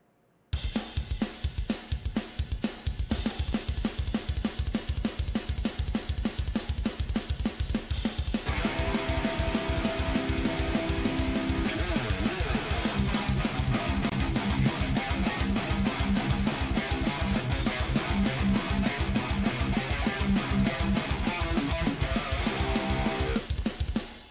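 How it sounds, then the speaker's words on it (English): EZdrummer 3 Metal Mania American Thrasher groove, fast thrash drum beat with relentless kick and snare hits and crashing cymbals, dense and loud, with a heavy tuned-low guitar joining partway through. "So we're using the Easy Drummer 3 Metal Mania"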